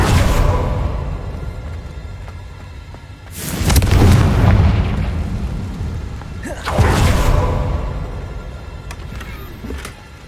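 Confringo fire spell explosions in Hogwarts Legacy, two loud booming blasts a few seconds apart, each swelling broad and heavy then fading, over a steady rumbling game backdrop.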